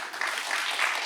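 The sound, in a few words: audience applauding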